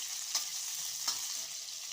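Green chillies and cumin fry in a pan for tomato chutney, a soft steady sizzle with two quick spatula scrapes about a second apart, fairly quiet and with no talking.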